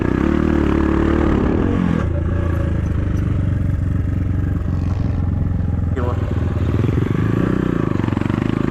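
A KAYO TSD 110 enduro motorcycle engine revs and accelerates close by during off-road training, a steady loud drone with rising and falling pitch that runs throughout the whole stretch.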